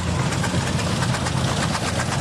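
A big orange tractor rolls by in a small-town river festival parade, its engine a loud, steady, close rumble with a rhythmic knocking throb, no voices over it.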